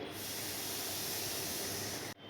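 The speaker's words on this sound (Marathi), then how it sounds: "लालसर होईपर्यंत आपण कांदा परतत राहायचा आहे" Onions sizzle steadily as they are sautéed in a pan until reddish for a chickpea and potato bhaji, a continuous close frying hiss that cuts off abruptly just before the end.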